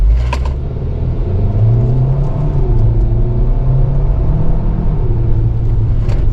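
A 2025 Hyundai Kona N-Line S AWD accelerates in manual paddle-shift mode, its engine droning steadily loud as revs climb and briefly dip between quick, sharp gear changes.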